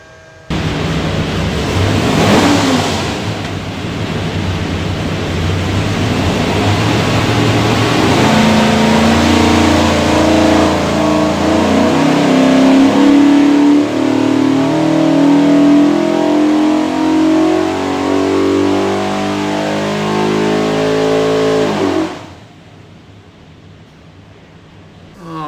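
A naturally aspirated 427 small-block Ford V8 bound for a '65 Superformance Cobra runs on an engine dyno, revving up in a long loud rising pull before abruptly cutting back to idle.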